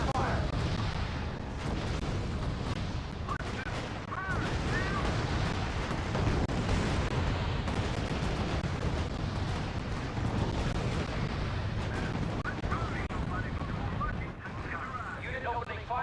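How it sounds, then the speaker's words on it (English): Battlefield units trading fire in the strategy game R.U.S.E., with a steady, dense rumble of artillery and gunshots running the whole stretch, overlaid by radio-style voice callouts. "Unit opening fire on the enemy."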